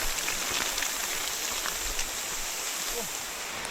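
Heavy rain pours down steadily in a tropical downpour, a dense, loud hiss of drops on surfaces that holds evenly across the whole stretch with no breaks.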